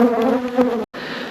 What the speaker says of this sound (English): Lots of bees fly in